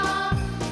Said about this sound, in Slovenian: Pa zvončke primaš, pa zvoniš.